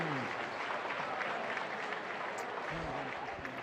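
Athletics crowd at an Adelaide invitational track meet applauds the women's 100 m winner, a continuous, fairly faint wash of clapping heard from a distance while an announcer's voice carries over it.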